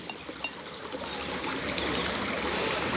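Water pours steadily into a Water-to-Go filter bottle. The splashing trickle runs continuously for the whole stretch and grows slightly fuller toward the end, with no talk over it.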